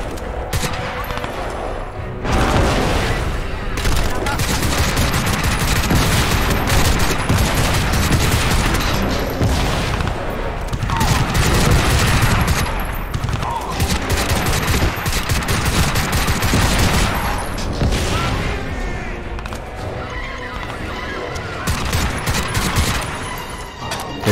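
Sustained gunfire from the video game Crysis 2, with dense automatic bursts and heavy shots filling nearly the whole stretch and only brief lulls, loud and close throughout.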